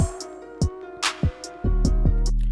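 A trap beat programmed in FL Studio plays crisp hi-hat ticks in a sparse, uneven pattern over punchy kick hits. A deep booming bass note then sustains under the last hi-hats. No voices are heard.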